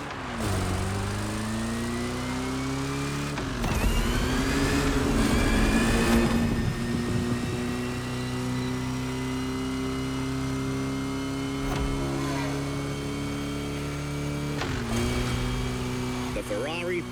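In The Crew Motorfest video game, a Ferrari 365 GTB4 engine drones steadily, its pitch stepping up through gear changes, while a voice talks over it much of the time.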